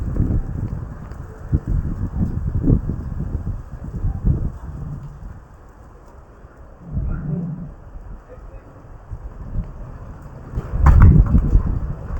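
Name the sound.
strong wind blowing through trees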